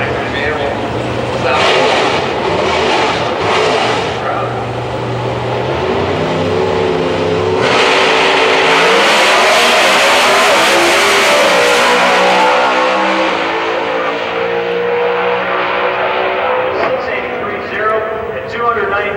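Pro Stock drag race cars at a raceway, loud engines revving and roaring past, with a sharp surge of full-throttle noise midway that stays intense before easing, under an announcer's voice over the public address.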